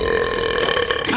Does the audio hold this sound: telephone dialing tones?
no